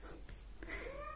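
A pet cat meows faintly in an indoor room, making a short, rising mew at the end of a quiet moment.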